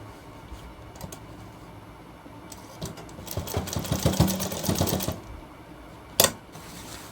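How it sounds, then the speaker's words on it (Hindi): A sewing machine stitches a shirt in a burst of fast mechanical whirring that rises for about two seconds mid-clip, then stops, followed by one sharp click; a low background hum persists throughout. "तो चलिए दोस्तों ये सिलाई अटैच करते हैं।"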